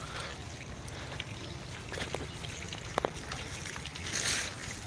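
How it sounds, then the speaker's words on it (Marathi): A steady hum and rush of running water fill the clip, with a few faint clicks on top and no talking. "तर मित्रांनो आता आपला सोलर पंप चालू झालेला आहे"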